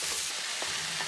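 Peppers and onions stir-fry in a hot wok for vegetable chow mein, a constant close sizzle broken by soft tossing scrapes.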